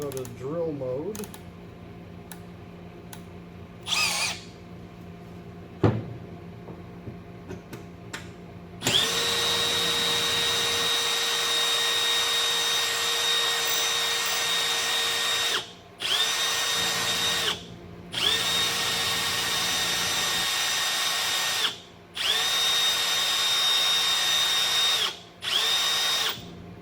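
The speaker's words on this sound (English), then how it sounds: "We'll go to drill mode." A battery power drill runs in drill mode against a windshield washer reservoir. It whirs at a steady high pitch in long runs with brief stops, after a few earlier clicks and short bursts.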